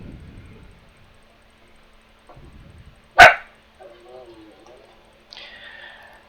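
One of a fishing streamer's dogs gives a single sharp, loud bark in a quiet room, with faint whines and soft sounds before and after.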